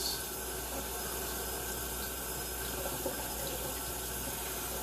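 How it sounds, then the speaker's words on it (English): Parsley is rinsed under a kitchen tap, with a steady, soft hiss of running water throughout and faint splashing. "Get this a quick rinse,"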